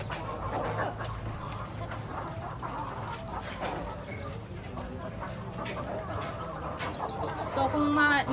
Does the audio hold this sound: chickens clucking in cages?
yes